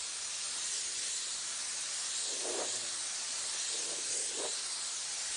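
A spray gun lays heavier coats of flame-design paint on a vehicle, a steady, close, bright hiss throughout with a few brief duller bursts of airflow in the middle.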